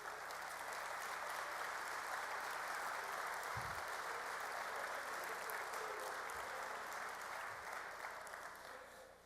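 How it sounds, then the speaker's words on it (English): At an athletics hall of fame ceremony, the audience gives student athletes sustained applause, a continuous wash of many hands heard from a distance at low level that tapers slightly near the end. "Please let's join me in having a round of applause for these student athletes."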